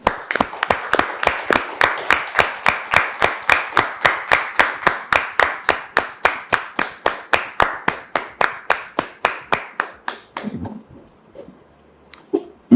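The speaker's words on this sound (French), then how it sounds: "Monsieur Oku Sévérin, que nous recevons sous vos applaudissements." Rhythmic clapping welcomes a guest onto a talk show set, evenly spaced loud claps in a steady unison beat lasting about ten seconds before stopping abruptly, followed by a short stretch of quiet room sound.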